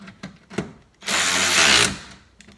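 A cheap Amazon cordless ratchet loosening a bolt on a car spins in one loud, steady whirring burst of just under a second, close by, with faint clicks and movement before and after.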